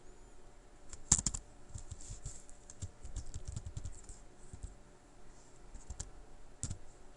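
A filename typed on a computer keyboard while setting up a Python Kivy project in PyCharm, quick uneven key clicks near and fairly quiet, with no voices.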